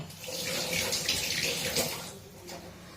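Water gushes from a newly fitted tap into a kitchen basin, a strong rushing flow that swells then eases slightly toward the end, close by.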